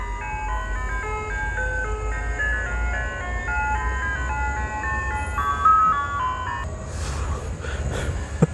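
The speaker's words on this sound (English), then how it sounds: "here comes the ice cream truck" An old, ratty ice cream van plays its jingle of La Cucaracha, a steady string of tinny electronic melody notes over low road rumble, with a few brief noisy bursts near the end.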